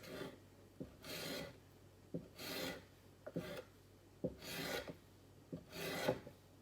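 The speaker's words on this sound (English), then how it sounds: "So I'm just going to cut these in real thin strips." A sharp knife slices thawed jalapeño peppers into thin strips on a board, five rhythmic rasping cuts spaced about a second apart, each ending in a soft tap, close and fairly quiet with no talk.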